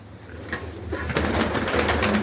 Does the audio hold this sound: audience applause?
no